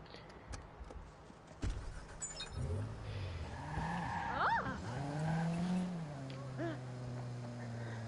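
A video game car starts up and drives off, its engine rising and falling with a short tire squeal and skid midway, accompanied by game music and sounds.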